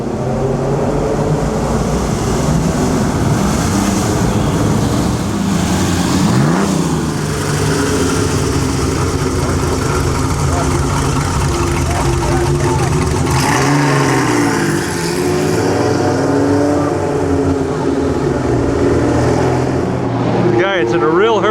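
A Ferrari in the Mille Miglia road race rolls into a checkpoint with a continuous loud engine drone that rises and falls with revs, while people talk over it.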